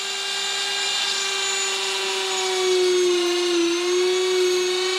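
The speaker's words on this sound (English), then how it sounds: "but I can drill that hole." A woodworking drill spins at a steady high pitch of around 32,000 rpm while boring a hole, a loud close whine that sags briefly under load and then recovers, with no talk.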